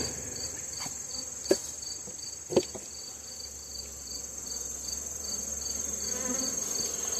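Honeybees in an opened hive brood chamber keep up a steady, close buzzing drone, broken by a couple of sharp knocks or taps.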